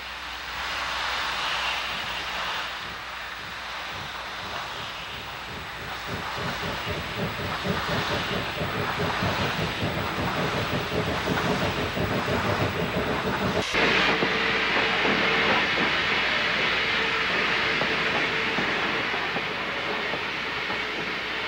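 An O gauge model train runs on a layout with a continuous motor whir and clicking rail rhythm, growing slightly louder midway, then a sharp click and a smoother, brighter hum afterward.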